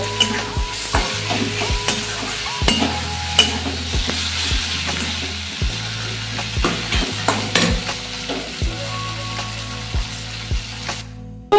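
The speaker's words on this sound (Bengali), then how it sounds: "একটু ভালোভাবে এটা কষিয়ে নেব।" A spice paste for moong dal with fish head fries and sizzles loudly in a pan, with steady stirring and frequent sharp scrapes and knocks of the spoon against the metal, continuing alone without any voices.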